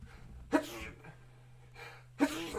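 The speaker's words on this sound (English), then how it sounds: "Oh man, that's my sneeze." Two quick sneezes, a couple of seconds apart, close and fairly quiet against a faint steady hum.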